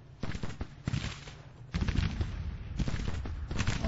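Battlefield gunfire in the Civil War strategy game Grand Tactician, dense crackling volleys and booming bursts rolling in waves, loud and continuous, with no voices.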